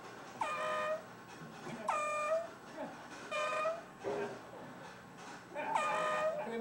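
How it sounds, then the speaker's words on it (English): Repeated blasts of a handheld air horn sounded during a golfer's backswing, five loud harmonic honks spaced about a second apart with brief pauses between them. "He bought himself an air horn, and he blows it in the golfer's backswing."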